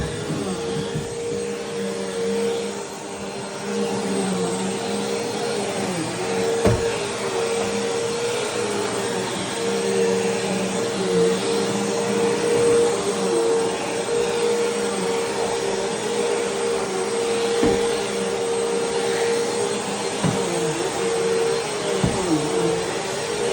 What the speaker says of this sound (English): we got the upstairs vacuum